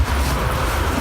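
An elevated train in Berlin, Germany passes overhead as a steady, dense low rumble with broadband roar, loud and continuous throughout with no voices.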